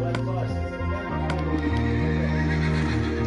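Minecraft horse sounds, whinnies and hoof clip-clops from horses being ridden, loud and steady across the short stretch with a voice briefly mixed in.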